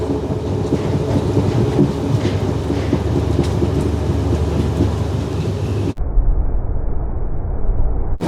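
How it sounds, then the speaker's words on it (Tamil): Heavy rain and rolling thunder sound from inside a moving passenger train on the Jaffna to Mount Lavinia line, a dense, loud roar with rumbling, and the sound becomes muffled partway through. "சொல்லி வேலை இல்லை, அப்படி மழை பெய்யுது."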